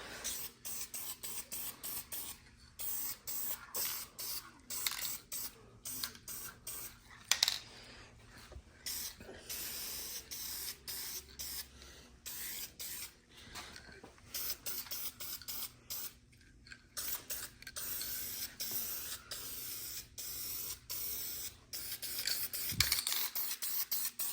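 Spray paint applied in light coats to a car interior, repeated short hissing bursts with brief pauses between them, near and fairly faint, along with occasional scrapes and rattles.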